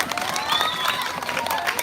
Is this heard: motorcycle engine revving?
no